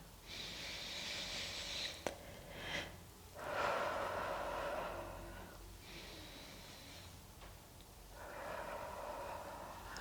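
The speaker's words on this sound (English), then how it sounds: "inhale to reach for the ceiling, exhale to relax those arms back down" Deep, slow breaths drawn in and pushed out during a gentle Pilates session, several long airy inhales and exhales in a steady rhythm, close and fairly soft, with no talking.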